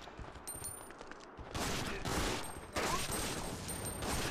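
Bursts of gunfire in the zombie survival game Resident Evil Outbreak, online play, growing louder and denser after the first second and a half and continuing as dense, rolling shots to the end.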